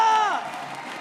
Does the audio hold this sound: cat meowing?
no